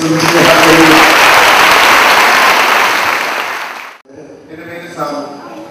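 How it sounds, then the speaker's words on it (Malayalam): A church congregation at a worship meeting claps hands in loud, dense applause for about four seconds, which then fades as a voice begins speaking. "കൈയടിച്ച്"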